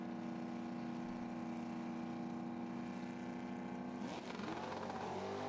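A new-generation GTO and a '69 Camaro drag race cars idle loudly at a dial-your-own handicap final-round start, their engine drone steady and close before rising and shifting in pitch as they launch.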